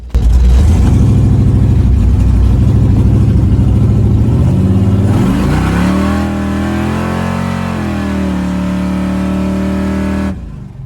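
A Chevy 355ci small-block engine in a hot rod muscle truck, tuned with new carburetor metering rods, revving loudly and close, its deep rumble climbing through throttle blips before dropping back and cutting off.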